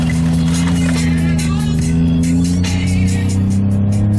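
A Chevy Impala's engine gives a steady, loud, close droning hum, heard from inside the car as it drives fast, with other sound faintly over the top.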